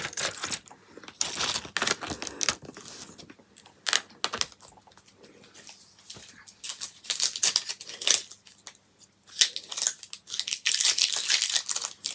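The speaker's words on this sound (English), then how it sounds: "my scissors are actually gliding over it" Quiet, close snipping and paper rustling in short irregular bursts, scissors sliding and cutting with brief pauses between strokes.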